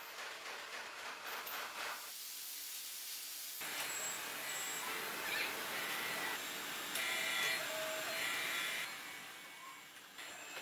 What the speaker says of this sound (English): Aluminum fins are cut, stamped, and shaped into ultra-thin, lightweight sheets.